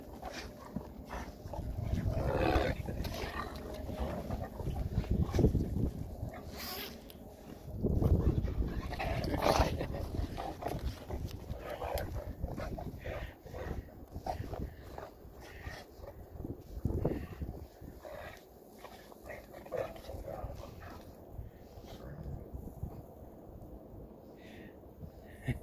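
A Malamute/Shepherd mix dog plays roughly with other dogs, giving repeated growls, whimpers and snarling barks at close range, rising and falling in bursts over continuous scuffling.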